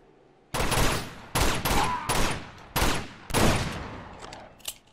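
Loud video-game gunfire in Uncharted 2: Among Thieves Remastered, several dense bursts of rapid shots separated by short gaps, with a small single report near the end.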